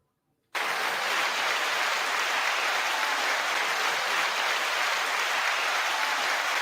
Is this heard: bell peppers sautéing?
no